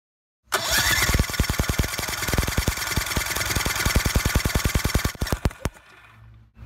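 An outboard boat engine cranking over for about five seconds during a compression test, a steady rapid chugging starter rhythm, close and loud, that stops abruptly and leaves a quiet tail.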